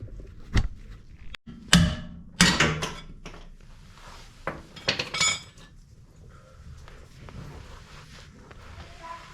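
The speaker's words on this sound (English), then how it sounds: "Now I take out this bushing." Work on a rotten upper control arm bushing on a Jeep XJ produces scattered metallic clanks, knocks and scrapes, some sharp and close, others faint, spaced irregularly with quiet gaps between them.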